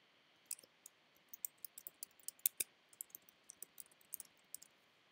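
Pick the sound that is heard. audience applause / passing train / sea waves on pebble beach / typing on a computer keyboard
typing on a computer keyboard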